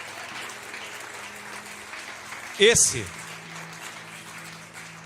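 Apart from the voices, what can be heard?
congregation applauding in church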